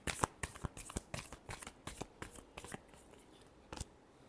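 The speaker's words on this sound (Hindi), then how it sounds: "last shuffle" A deck of tarot cards is shuffled in a burst of quick, crisp riffling flicks, close and fairly quiet, with no voices.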